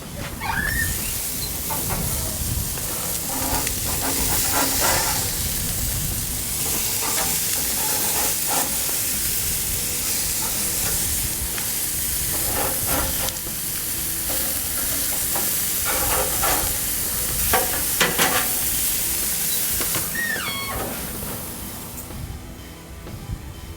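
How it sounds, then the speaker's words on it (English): Burgers sizzling on a Monument Grills Mesa 415bz gas grill with grease dripping onto the flavor bars, a steady hissing sizzle with intermittent pops and flare-ups, close, without speech. "You can see that grease hitting those flavor bars."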